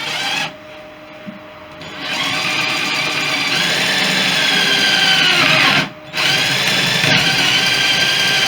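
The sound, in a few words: drilling a hole with a power drill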